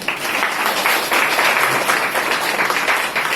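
An audience at a kirtan held at a hospital claps in a dense, steady round of applause that fills the whole stretch at a strong, even level.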